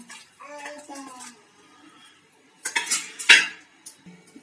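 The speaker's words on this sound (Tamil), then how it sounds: "இது வந்து சூடாக இருக்குது அதனால இன்னொரு தண்ணி வேற தண்ணிக்கு மாற்றிக்கிடுவோம்" Soaked soy chunks (meal maker) are shifted into a bowl of fresh water for a curry, with a few quiet clinks and then a brief burst of clattering bowl and sloshing water near the middle.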